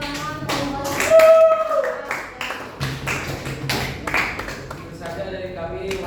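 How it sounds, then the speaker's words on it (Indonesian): Classroom applause during a science lesson, with distinct sharp claps and rhythmic tapping from a small group of students, mixed with voices and chanting over the clapping. "Berikan tepuk tangan untuk"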